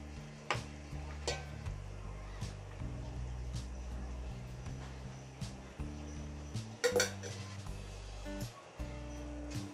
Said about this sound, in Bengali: তো এখন একটু হালকা নেড়ে নিচ্ছি।